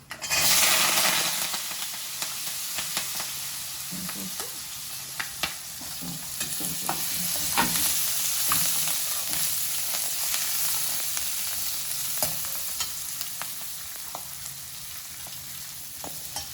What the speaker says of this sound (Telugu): ఇప్పుడు ఆనియన్స్, కరివేపాకు, కొత్తిమీర వేసేసుకుందాం